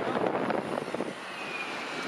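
Wind buffets the microphone in a rough, blustery rush that eases after a second into a steadier, softer hiss.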